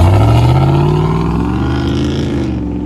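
A RAM 1500 pickup's 6.4-litre engine revs up, a loud, deep rumble rising steadily in pitch over a few seconds, close by and with no talk over it.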